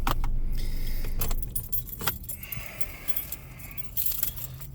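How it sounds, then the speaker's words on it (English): Keys jingle near the ignition as a parked car's engine shuts off, the low running rumble dropping away early and leaving scattered metallic key clinks and handling sounds in a quiet interior. "Turned off the car."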